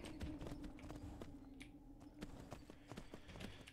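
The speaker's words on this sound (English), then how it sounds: "Oh, we get our own horse?" Steady clip-clop of horse hooves in a heavily modded Oblivion game, a continuous trotting rhythm of soft repeated knocks heard alone at a moderate, fairly quiet level.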